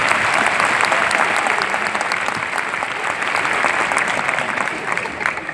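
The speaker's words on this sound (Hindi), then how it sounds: "तालियां" Sustained audience applause fills a large hall at a Kingdom Invasion church gathering, dense clapping steady throughout with a faint voice or two beneath.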